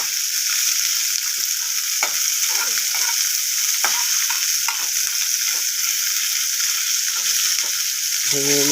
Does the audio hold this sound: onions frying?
yes